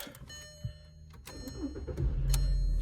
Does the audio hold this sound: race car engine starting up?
yes